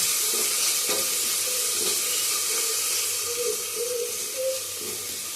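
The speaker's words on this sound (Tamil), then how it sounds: "டொமேட்டோவையும் நம்ம கேரட்டே ஆட் பண்ணி ஒரு மிக்ஸ் கொடுத்துக்கலாம்." Chopped tomato and carrot are stirred in a hot pan, making a steady, hissing sizzle with soft, wet scraping and a few brief bubbly squelches. It is close and even, with no voices.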